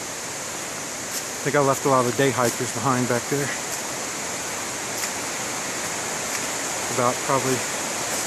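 A mountain creek beside a backpacking trail in the Great Smoky Mountains rushes with a steady, loud broadband roar throughout, while someone talks over it briefly twice.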